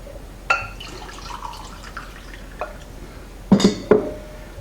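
Half a cup of warm water is tipped into a bowl of flour for paper mache paste, giving a few short splashes and drips against a quiet kitchen background, with a clinking burst near the end.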